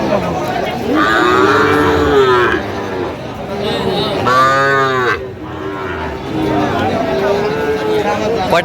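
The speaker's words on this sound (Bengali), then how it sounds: "আচ্ছা গরুগুলো দেখান একটু দেখান" Sahiwal bull calves and other cattle at a livestock market moo loudly and close in several long, drawn-out calls, with people talking and a market babble underneath.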